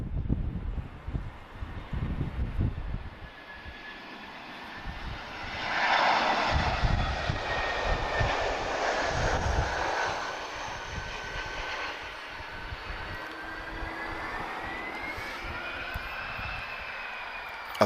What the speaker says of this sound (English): time for our first Boeing heavy movement of today